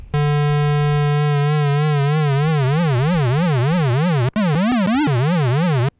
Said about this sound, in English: So there we have LFO affecting the frequency of actually both oscillators.